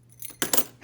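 A bunch of keys jangles in an arcade repair shop, with a few quick metallic clinks and rattles close by, clustered into short bursts and no voices.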